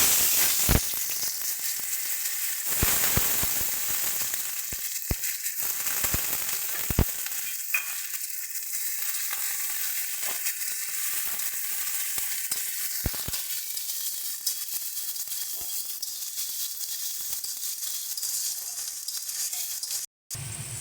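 Cut potatoes fry in hot oil with panch phoron, a steady close hiss and crackle running throughout, punctuated by occasional clinks and scrapes of stirring and no talking.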